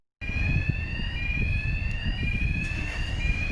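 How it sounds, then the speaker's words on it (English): A fire alarm rings steadily and loudly throughout, a continuous electronic tone over a rumbling indoor background with no pause in its sound. "Nothing like a bit of a fire alarm just to add a bit of drama to the footage."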